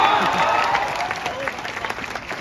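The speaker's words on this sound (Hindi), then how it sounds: "सबको समझ में आ तो जोरदार तालियां चाहिए" Audience applause at a Kamyab Divas event in Patna, a dense steady clapping wash that holds for the whole stretch, fairly loud, with a faint murmur of voices mixed in.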